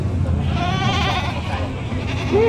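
Goats bleat nearby among a crowd of animals at a livestock auction market in Padre Garcia, Batangas, one wavering cry clearly heard near the end, with people talking in the background.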